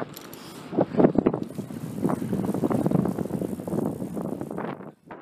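Wind roars steadily past a cyclist riding a bicycle up a gradual hill into a headwind near the California coast at Inverness, with gusty buffeting swelling and easing close to the microphone.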